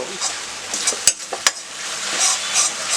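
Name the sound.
cabbage manchurian frying on high flame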